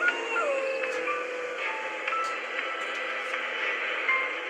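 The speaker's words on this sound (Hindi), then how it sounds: "कुत्ते रोने लगे।" Dogs howl and whimper in a mournful, wavering chorus as a horror-story sound effect, drawn-out cries rising and falling over a faint hum, with no speech.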